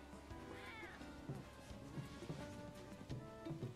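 Cats meow repeatedly in the video game Final Fantasy VII Rebirth, several overlapping cries over soft game music and ambience, fairly quiet and steady.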